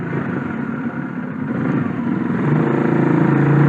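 Motorcycle with an overbored engine and an aftermarket exhaust like a carbureted Satria FU's, droning steadily and fairly loud close by, building slightly toward the end with no voices.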